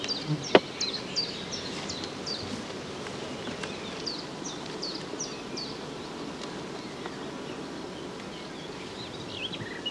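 A honeybee colony buzzes steadily while the hive is opened for a frame-by-frame brood inspection, a dense, faint, continuous hum with a few louder bees passing close.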